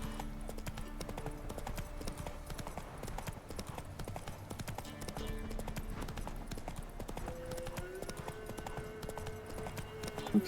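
Rapid hoofbeats of a horse galloping in The Witcher 3 video game, a steady clip-clop rhythm under game music and ambience, with someone speaking faintly over it.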